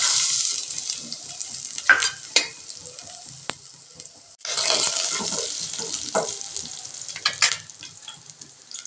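Six cloves of finely chopped garlic tempering in hot coconut oil in a pan, a loud, bright crackling sizzle that surges, dips and flares again, with a few clanks from a stirring utensil.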